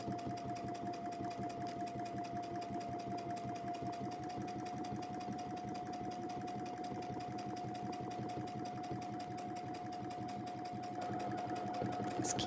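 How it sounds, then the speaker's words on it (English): A sewing machine free-motion quilting, running in a fast, steady rhythmic needle chatter with a constant motor hum, close and continuous throughout with no pauses. "Just keeping that machine going very rhythmically, getting right into that corner."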